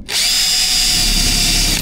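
A power drill bores into galvanized, painted sheet-metal roofing near a rubber seal while a solar panel system is being mounted, giving one steady, loud, high-pitched whine that holds for nearly two seconds with no talk.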